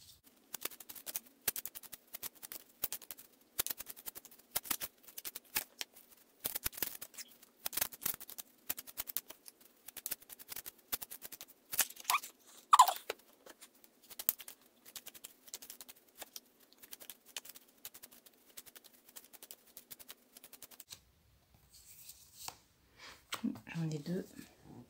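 Oracle cards shuffled and handled for a full moon reading, giving a run of quick soft papery riffles and taps close by, with speech heard near the end.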